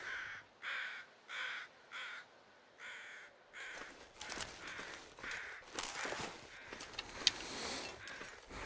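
Crows caw repeatedly in The Long Dark, a rhythmic series of short harsh calls at first, then overlapping, ragged cawing from several birds amid faint shuffling noises.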